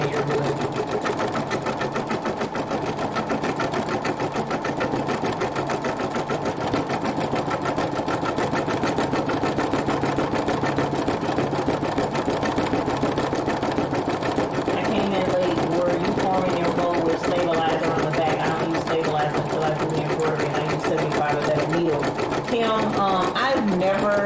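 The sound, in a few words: sewing machine stitching a rope bowl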